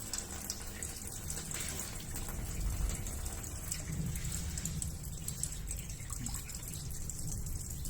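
Hot water runs steadily from an Anlabeier instant water heater, a constant even hiss of flowing water with no talking over it.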